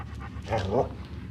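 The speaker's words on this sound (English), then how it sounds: "That's a dog!" A dog pants and whimpers in a scene from the American crime drama series Viper, with brief breathy bursts heard under people talking and low background noise.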